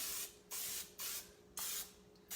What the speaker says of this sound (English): We want to spray the bottom